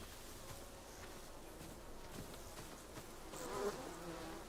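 Bees buzz in a video game, a faint, steady droning hum that swells slightly louder near the end, heard alone without talk.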